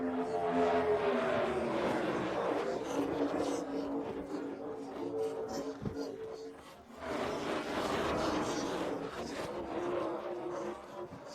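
Video-game NASCAR stock cars roar off the start at Talladega, a dense, sustained engine drone from the pack that dips briefly midway and swells again, with a commentator talking over it.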